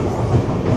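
Passenger train rolling near Bhopal station, a brief close low rumble with rhythmic clatter of wheels on track, no talk.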